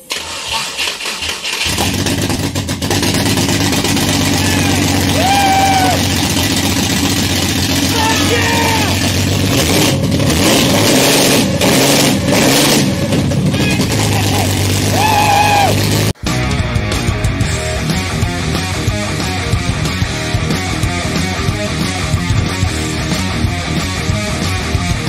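A Ford Barra engine fitted to a Mustang project car cranks and fires into life for the first time, then runs with a loud, rough, rumbling idle that surges partway through. It sits close and dominant throughout.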